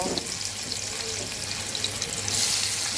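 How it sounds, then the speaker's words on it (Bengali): Mola fish frying in hot oil, a steady broadband hiss and sizzle running throughout with a low hum beneath, rising slightly louder near the end, no talk. "তেলটা গরম হয়ে গেছে আমি এখন মাছগুলো ভেজে নেব"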